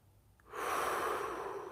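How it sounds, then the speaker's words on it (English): A loud, drawn-out breath fills a vinyasa yoga class, a single long forceful exhale or inhale rising sharply and holding steady for over a second, close and alone. "You must breathe loud."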